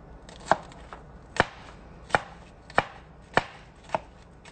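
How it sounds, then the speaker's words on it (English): Knife dicing onions on a cutting board for beans: six sharp, evenly spaced chops about every half second, close and crisp over a quiet room, no voices. "I'm fucking dicing up these goddamn onions for these beans."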